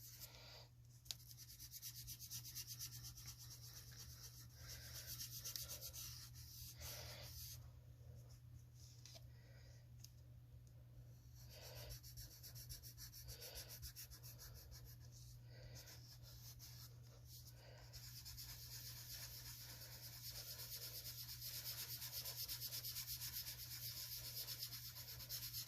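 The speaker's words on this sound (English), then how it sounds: "Circular motion, side of a sharpened pencil." Side of a sharpened black pencil shading on paper in steady circular strokes, a soft continuous close-up rubbing and scratching with a low electrical hum underneath, no talking.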